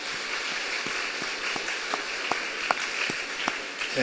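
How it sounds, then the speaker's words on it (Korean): A Sunday church congregation applauds in thanks to God, a soft, rain-like hiss of many distant hands with occasional sharper individual claps standing out. "그렇게 하실 우리 하나님께 박수로 감사하겠습니다"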